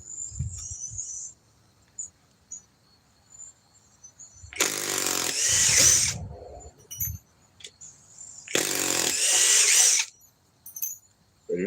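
A power tool whirs at full speed in two bursts of about two seconds each, with quiet gaps and faint clicks between them. The tool has a dead spot in its trigger.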